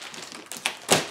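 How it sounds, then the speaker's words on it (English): A drone box gets its tape cut. Soft scraping leads into a few sharp ticks and a final crisp crackle of the blade slicing through, close and quiet, lasting about a second. "Cut the tape."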